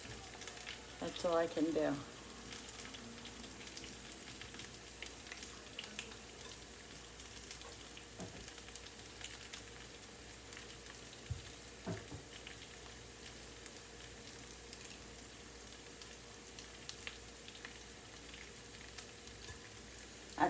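Homemade tater tots frying in hot oil until crispy, a steady faint sizzle over a stretch of time, with a brief spoken remark and a clatter near the start.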